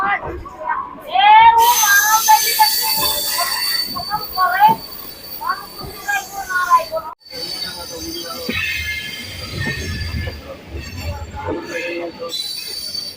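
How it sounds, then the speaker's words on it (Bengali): Local train pulling into Bardhaman Junction station, with loud high-pitched wheel squeal rising and falling against the rails over a continuous rumble and clatter, heard up close. "আর একটা লোকাল ট্রেন বর্ধমান জংশন স্টেশনে ঢুকছে"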